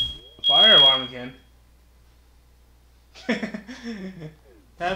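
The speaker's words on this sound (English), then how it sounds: "Fire alarm again." Fire alarm in the video game Sonic Frontiers, heard as one steady high tone at the start that cuts off as a voice talks, followed by silence and more talk.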